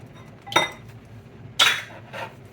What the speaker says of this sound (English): You want to crack your egg.